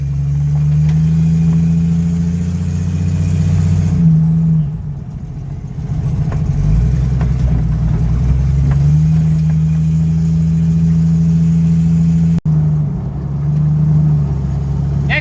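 A 1995 Jeep Wrangler YJ with automatic transmission idles loudly and steadily up close, its low drone rising and falling slightly as it revs, with a brief click near the end.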